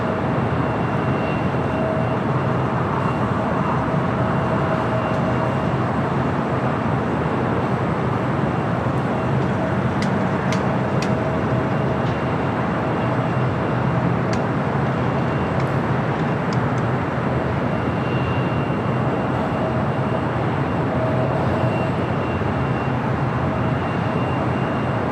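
An Alaska Airlines Boeing 737-900ER rolls on the ground at LAX, a loud, continuous jet engine roar with a steady whine, constant throughout with no talk.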